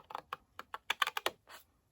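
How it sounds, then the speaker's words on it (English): Big long scissors snipping along a scored line in papercraft, a run of about ten short crisp cuts in an uneven rhythm, close and fairly quiet, with no talking. "So we're going to come and cut"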